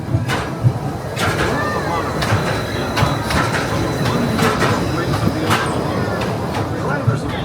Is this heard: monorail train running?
yes